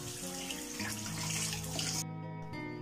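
Tap water runs steadily into a sink while pork for Cantonese char siu is washed, a continuous close splashing that cuts off abruptly near the end, then resumes briefly.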